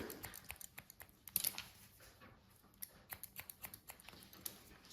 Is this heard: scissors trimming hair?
yes